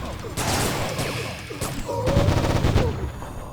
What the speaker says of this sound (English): I hear pew pew.